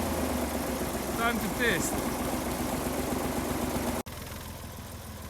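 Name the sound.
engine idling after first start in years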